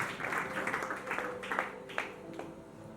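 A church congregation applauds and acclaims a reverend, giving moderately faint, sustained clapping with a few sharper individual claps standing out, like a crowd heard from some distance.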